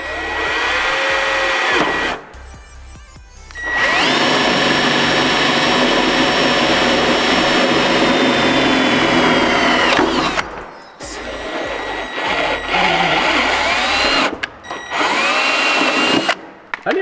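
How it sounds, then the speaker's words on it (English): A power drill whines loudly in long sustained bursts, driving a tap into a 240SX body panel, with brief pauses between runs and the motor pitch shifting as it bites into metal. "I didn't know you could drill a tap in."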